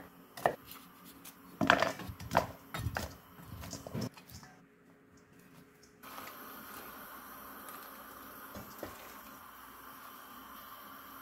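Knife chopping fresh broccoli florets into small pieces on a board: several quick, close cuts and clicks in bursts, then a pause and a steady faint kitchen hum.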